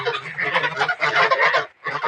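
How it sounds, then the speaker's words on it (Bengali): Domestic geese kept on a farm honk loudly and close in a dense, overlapping burst, with a brief gap before the honking resumes. "হাঁসগুলো দেখুন, আমার শখের রাজহাঁসকে"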